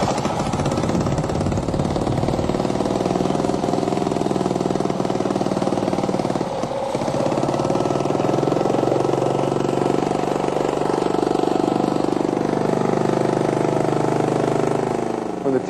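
A steady, loud engine drones continuously with rough exhaust rumble, running at constant speed throughout with a brief dip partway, no voices.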